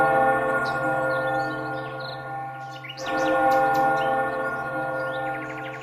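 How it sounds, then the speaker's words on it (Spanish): Large church bells calling to mass ring continuously with rich, overlapping tones, a fresh peal struck midway, while birds chirp faintly in the background. "sonaron en la iglesia las enormes y acardenilladas campanas llamando a misa"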